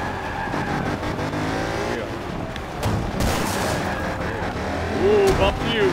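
A Ferrari race car in the Forza racing game roars steadily at high revs, with a brief burst of impact noise midway and engine pitch sweeping at the end, while someone talks over it.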